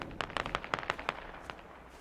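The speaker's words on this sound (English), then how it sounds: "Oh, they're shooting me." Gunfire in the military shooter game Squad, with Russian and US army forces fighting: a rapid string of sharp cracks and pops fires in an uneven burst, moderately distant and fairly quiet, then tapers off.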